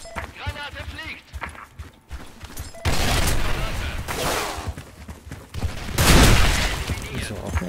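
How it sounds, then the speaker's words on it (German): A grenade goes off in S.K.I.L.L. Special Force 2 with a loud, broadband blast followed by a second heavy burst, amid gunfire and someone speaking German beforehand. "Granate fliegt."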